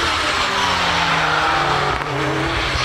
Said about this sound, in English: Stephen Moore now into Farmhouse Bend in the Mitsubishi Evo 6